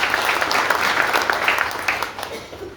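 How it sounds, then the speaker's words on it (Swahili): Congregation at a church main service clapping together, a steady dense patter of many hands filling the room, loud and continuous throughout. "Tumpigie makofi."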